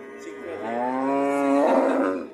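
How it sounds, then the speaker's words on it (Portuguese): A cow at a cattle fair in Águas Belas, Pernambuco, lets out one long, loud, close moo that rises and swells in the middle before trailing off, heard on its own. "É a vaca do senhor?"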